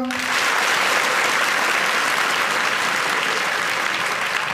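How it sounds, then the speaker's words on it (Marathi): Girls in an audience clap loudly together, a thick, even roar of many hands that starts almost instantly and holds steady without a break. "मला फक्त पोरीच्या टाळ्या पाहिजे."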